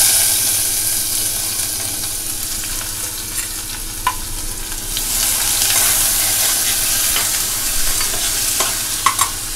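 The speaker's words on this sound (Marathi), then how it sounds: "कांदा घालते" Chopped onion hits hot oil with asafoetida and curry leaves in a kadhai and is stirred, a loud continuous sizzle with scattered scraping clicks from the spoon, no talking over it.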